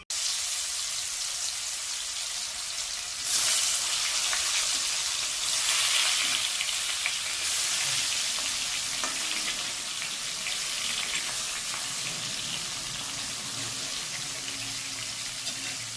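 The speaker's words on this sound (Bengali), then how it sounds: "গরম হয়ে যাওয়ার পরে এতে আমি একটা একটা করে মাছ অ্যাড করে দিচ্ছি" Pieces of catla fish are added one at a time to well-heated oil and fry with a steady, loud, broadband sizzle and hiss that continues unbroken throughout, with no voices.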